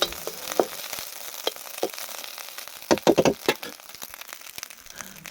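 Rice frying in a pan makes a light sizzle under irregular crackling and scraping stirs, with a burst of sharper crinkly scrapes in the middle. The sounds are close and there is no speech.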